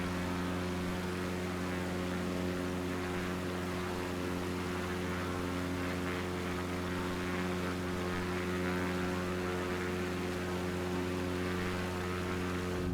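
Propeller airplane in Microsoft Flight Simulator 2020, hand-flown in a steep climb without flaps over alpine terrain, its engine drone steady and loud with a strong low hum and layered harmonic tones throughout, no voices.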